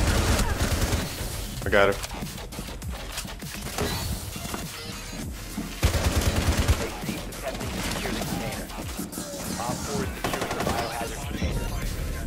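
Gunfire in the tactical shooter game Rainbow Six Siege: bursts of automatic shots crackle through the mix, with sharper volleys near two and six seconds, while players talk over it.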